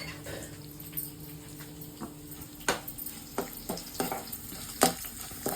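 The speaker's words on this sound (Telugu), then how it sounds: "పోపు దినుసులో బాగా వేగినాయి ఫ్రెండ్స్" Tempering spices frying in hot oil for beetroot pulihora, a soft steady sizzle with intermittent sharp crackles and the clack of a spoon stirring against the pan, close and fairly quiet.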